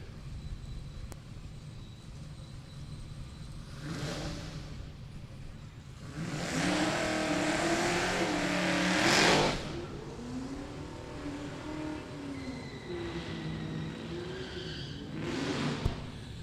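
Drag race car at Sick Week 2023 in Gainesville launching off the starting line, a loud roaring engine burst swelling for several seconds before dropping away, with quieter engine rumble and a fainter rev near the end.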